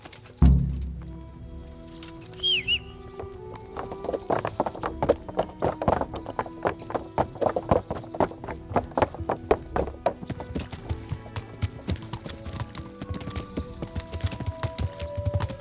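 Horse hooves clip-clop steadily in the video game Kingdom Come: Deliverance, close and fairly loud. The hoofbeats start after a brief thump and settle into a quick, even gait that runs to the end.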